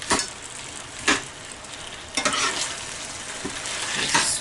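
Frozen chunks stirred into hot bacon grease in a pan, a steady close sizzle broken by repeated scraping strokes of the spoon, with no talking.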